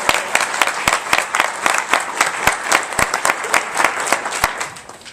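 Sustained applause from a large audience at a presidential advisory council meeting on HIV and AIDS, dense continuous clapping filling the room for about five seconds before easing off at the end.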